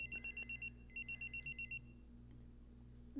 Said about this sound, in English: The sound of the phone going off sends a shiver down my spine.